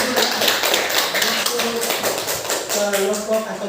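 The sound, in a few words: class applause for the group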